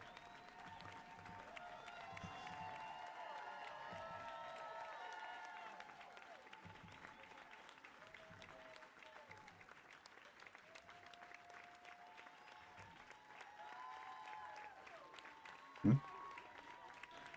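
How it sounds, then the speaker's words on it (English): Applause and clapping from a crowd roll on steadily at the end of the Slay the Princess video game, fairly faint beneath music, with a sharp thump near the close. "Freaking clapping."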